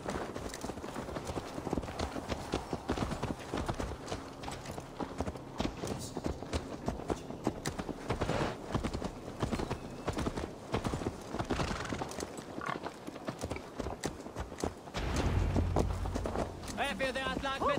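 Horse hooves clip-clopping in a trot in the video game Assassin's Creed Valhalla, a quick steady rhythm close by, with occasional whinnies and voices talking over it.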